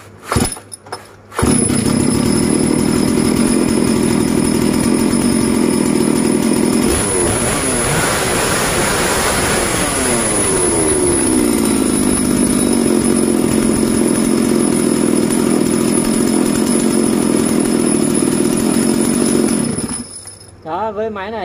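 A chainsaw engine runs loud and steady for about twenty seconds, its pitch rising and falling briefly as the throttle is revved midway, then settling back to idle.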